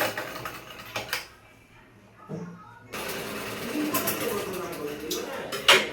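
Domestic sewing machine stitching together panels of a panel-cut kurti, a close, steady whirring stitch that kicks in after a few quiet handling noises and runs on continuously to the end.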